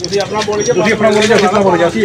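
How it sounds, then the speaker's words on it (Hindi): A pigeon perched on a net coos in low, rounded murmurs, close and fairly loud, while someone talks steadily over it. "कबूतर आके बैठ गया है जाल पे"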